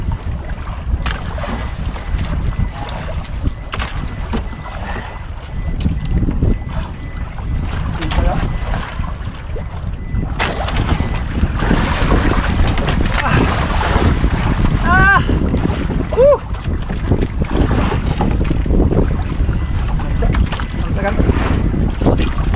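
Strong wind roars over the microphone on a small fishing boat at sea in rough weather, with waves and hull noise throughout and occasional voices shouting and talking under the steady blustery rush.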